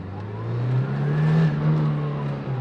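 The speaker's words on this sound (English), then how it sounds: "here, let me briefly give it some gas." A 1984 Ford Mustang SVO turbocharged engine revs up from a low hum, rising in pitch, holding briefly, then easing back down; close and fairly loud, no talking.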